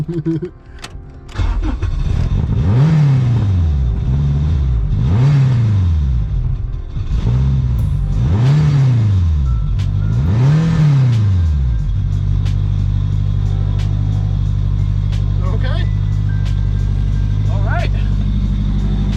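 A turbocharged Honda Civic engine cranks and starts, then revs loudly in four rising-and-falling sweeps before settling into a steady, rumbling idle close by.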